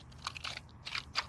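Crunchy clicking of hard plastic pellets inside a squeezed Goo Jit Zu dinosaur toy, a few close, quiet bursts of crackling grit with short gaps between them.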